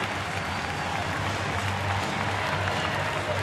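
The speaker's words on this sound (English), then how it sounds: "And a sellout crowd tonight on their feet." A sellout crowd at a Pittsburgh at Milwaukee baseball game in September 2011 cheers and applauds on its feet, a dense, steady roar of clapping filling the stadium.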